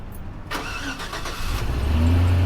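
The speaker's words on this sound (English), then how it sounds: "We're going to fire it up." A Hummer engine cranks and catches, then settles into a steady, rising idle that stays close and loud to the end. No one talks over it.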